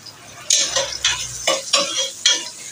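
Onions frying in a pan with other ingredients, heard up close as a bright sizzle broken by several rhythmic stirring scrapes with the utensil, with no one talking.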